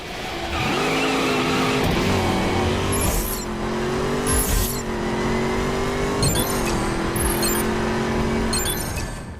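Cars race through the video game The Crew, a loud continuous engine roar with shifting revs, tire squeals and skidding, and sharp bursts of collision noise.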